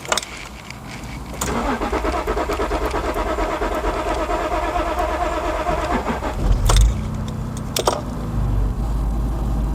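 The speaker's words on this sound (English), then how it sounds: "When it's running, it runs really, really nice, but it really shouldn't take that long to start." A Rover car engine cranks for a long stretch, the starter churning rhythmically for several seconds before the engine catches and settles into an idle, loud and close with no speech.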